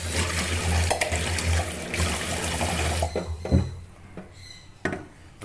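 Tap water runs and splashes in a kitchen sink while fish is rinsed several times, a steady close gush for about three seconds followed by quieter dribbles, drips and a few handling knocks.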